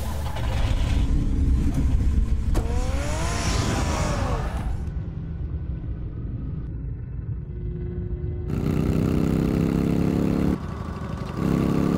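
A car engine in the video game Batman: The Telltale Series rumbles and revs loudly, with pitch rising through acceleration, a quiet stretch, then the roar returning near the end.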